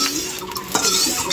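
A metal spatula stirs food in hot oil in a village kitchen, giving close scraping and clinking strokes against the pan over a light sizzle.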